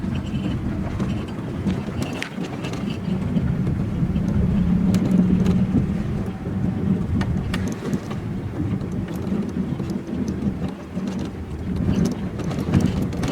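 A car drives along a wet country road toward a small cabin on acreage, a steady low rumble of engine and tires on damp ground with rain-like hiss, continuous and close throughout.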